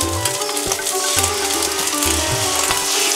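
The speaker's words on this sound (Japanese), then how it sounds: "鍋肌に醤油を入れて、焦がします。" Intense, crackling sizzle as soy sauce hits a very hot wok while making fried rice, with a rhythmic scraping and stirring clatter underneath.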